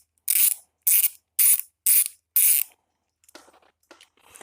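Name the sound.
socket wrench removing bolts from pressure washer carburetor bowl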